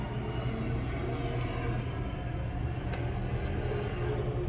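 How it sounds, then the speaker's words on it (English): A bus passing on a city street outside an apartment during a heavy windstorm, a loud continuous low rumble of engine and wind noise filling the whole stretch with no clear rise or fall. "And there's a bus."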